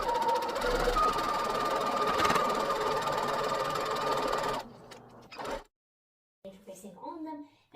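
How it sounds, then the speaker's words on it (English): A sewing machine backstitches to close a seam on a fabric dog neckwear scrunchie, giving a steady, close mechanical whir for about four and a half seconds before stopping, followed by a few quieter handling noises and a pause. "go back to your sewing machine and just backstitch and close it up"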